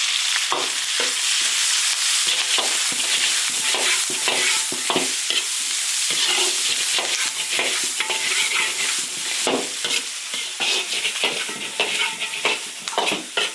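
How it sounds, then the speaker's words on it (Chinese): Sausage and chili stir-fried in an iron wok, loud continuous sizzling broken by repeated scraping and tossing of the spatula throughout, with no voices. "把香肠煸一下，然后再放辣椒"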